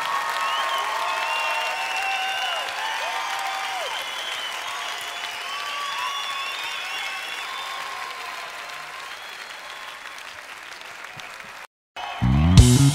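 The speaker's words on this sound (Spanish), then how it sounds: "dale al Señor un aplauso como Él merece" A church congregation applauding the Lord during a worship service, sustained broad clapping mixed with cheers and whistle-like voices, holding steady and gradually easing for about twelve seconds before a brief break and a louder burst.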